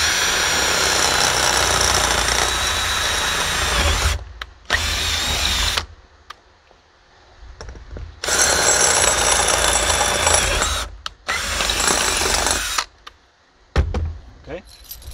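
A power drill bores holes into wooden utility trailer floorboards, with loud sustained whirring bursts broken by short stops. A quieter gap falls in the middle, and the drill restarts close by before a last brief spin.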